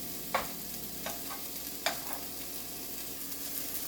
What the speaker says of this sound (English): Mixing it up a little bit and let them cook a few minutes.